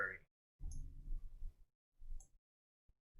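A computer mouse clicks sharply a few times in software setup work, close and brief, between stretches of a man's speech.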